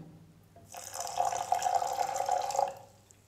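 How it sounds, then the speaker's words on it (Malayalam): Half a glass of water is poured into passion fruit pulp for juice: after a quiet start, a close, steady splashing pour runs for about two seconds and then stops. No one talks. "ഇനി ഇതിലേക്ക് നമുക്ക് ഒരു 1/2 ഗ്ലാസ് വെള്ളം ഒഴിച്ചിട്ട് ഒന്ന് അടിച്ചെടുക്കാം"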